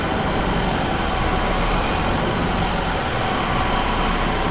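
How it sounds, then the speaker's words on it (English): A tractor engine in the farming game Farming Simulator 22 drones at a constant, loud level, a dense low rumble with no change in pitch or load and no talking. "Tractor, you better freaking do this"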